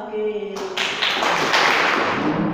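A group of boys claps along at a school entertainment event, starting after a short sung line and then carrying on as a dense, fairly loud patter of hand claps.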